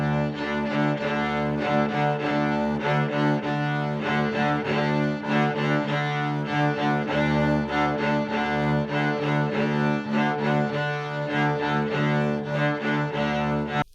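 String students bowing quarter and eighth notes with even bow use in an ensemble exercise, a loud and steady sustained tone with regular rhythmic bow changes throughout.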